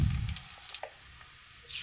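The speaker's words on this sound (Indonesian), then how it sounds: "Setelah minyaknya panas, ini langsung aja masukin bawang merah dan juga bawang putihnya kita tumis sampai harum" Shallots and garlic sautéing in hot oil for a spicy stir-fried fern dish, a soft sizzle with brief scraping stirs and a louder burst of frying at the end.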